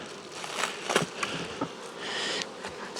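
A close, dense hum of many honeybees buzzing together, with individual bees droning past.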